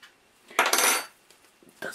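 Spoon scraping and clinking against a bowl while paprika powder is mixed into mayonnaise in a small home kitchen, one dense burst of stirring followed by a brief clink near the end.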